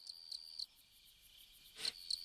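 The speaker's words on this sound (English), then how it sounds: "Crickets chirp as I walk down by the river." Crickets chirp faintly beside a river at night in a video game, a few short high-pitched trills in clusters over a near-silent background, with no voices.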